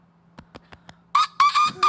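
A person mimics a rooster crowing, giving a few soft clicking taps and then a loud, nasal cock-a-doodle-doo broken into short bursts at the end, alone with no other talk.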